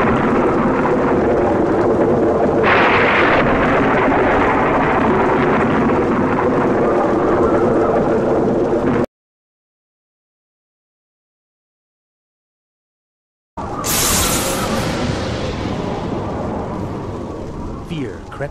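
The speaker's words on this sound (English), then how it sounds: "Louder and louder did the winds howl, and the thunder and lightning crackle." Stormy weather in a forest, with dense roaring wind and rumbling thunder filling the sound, broken by a sudden gap of silence, then a sharp crackling burst as the storm resumes.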